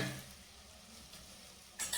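Eggs being scrambled and stirred in a pan for a village-style egg fry, a soft continuous scraping and gentle sizzle at low level, with a brief louder clatter of the utensil at the end.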